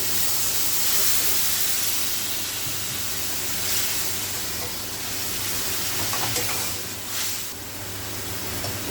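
A splash of water hits a hot pan of spice mixture with chili powder for a Bengali vegetarian curry, and it gives off a loud, steady steamy hiss and sizzle. The hiss swells and eases slightly for around nine seconds, with no voices.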